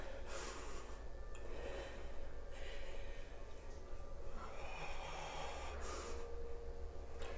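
Slow, deep breathing during a yoga session, with audible inhales and exhales rising and falling close by, quiet and unhurried with no speech.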